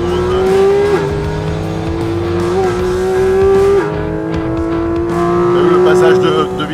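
A Porsche GT4 RS engine drones loudly on a race circuit, its pitch climbing steadily and dropping abruptly at several quick gear shifts, with people talking over the engine noise inside the car.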